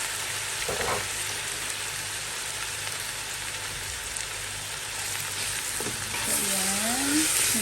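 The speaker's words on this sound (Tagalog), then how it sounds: "Pwede na din natin ngayon ihalo ang ating beef." Ground beef, 1.5 kilos, frying and being stirred in a pan for a Filipino-style lasagna, a steady loud sizzle with occasional scraping stirs and clinks, no talking.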